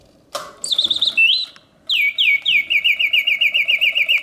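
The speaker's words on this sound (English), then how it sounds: "The birds sing with full voice, yet the mechanism runs smoothly and quietly." A vintage Reuge double singing bird cage automaton sings loudly and near: an opening whirr, bright warbling trills, a short pause, then a fast run of repeated chirping whistles in a steady rhythm.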